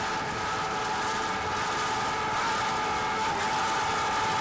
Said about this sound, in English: Those twin 450 horsepower Evolution Marine outboards can really compete with the best of them. These are serious engines